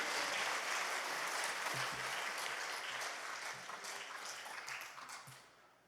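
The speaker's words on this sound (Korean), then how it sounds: "우리 하나님께 영광의 박수를 드립니다" A church congregation claps in welcome at a fasting prayer retreat, a broad, even wash of applause that holds steady and then gradually fades away over several seconds.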